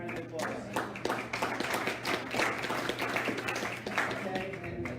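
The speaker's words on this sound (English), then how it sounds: "Let's give him a round of applause" Audience at a City Island Rising community meeting applauding a presenter, scattered hand claps at moderate volume over a steady background hum, with some voices mixed in.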